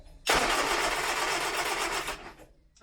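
A 1970s Austin Allegro engine cranks over on the starter, a steady rhythmic churning that runs loud and close for about two seconds before cutting off.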